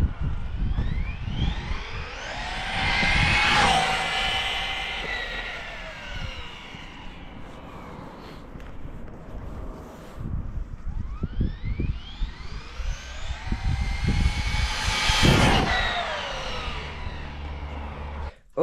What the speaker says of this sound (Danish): jeg vil lave et speedrun her på vejen, så I kan se, hvor hurtigt den kan køre på 4S